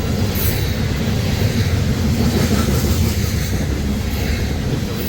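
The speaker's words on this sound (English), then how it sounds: "this train's going to Texas, full of coal from the Powder River." A heavy loaded coal freight train rumbles past close by at Napier, Missouri, a steady loud roar of rolling cars with faint wheel clatter throughout.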